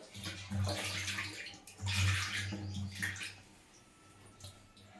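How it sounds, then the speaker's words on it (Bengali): Tap water runs and splashes while fresh tengra fish are washed, surging in a few loud bursts with gurgling, then easing off, close by and alone. "ভালো করে না ধুয়ে বেশি না দিলে হবে না, কলেই যেতে হবে, প্রচুর জল লাগবে"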